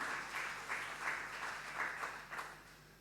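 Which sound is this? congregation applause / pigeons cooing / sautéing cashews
congregation applause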